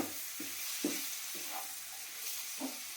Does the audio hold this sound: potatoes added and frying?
yes